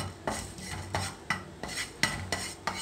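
Spices dry roasting in a pan with no oil, stirred with a utensil that scrapes and taps the metal in a steady series of about nine close, moderately loud strokes, with no talking.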